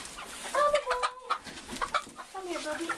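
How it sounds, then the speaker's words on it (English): Chickens and a rooster on a farm, several nearby clucks and short crowing calls rising and falling over a few seconds, with light outdoor background noise. "Let's try to find our prize-winning rooster, Elvis."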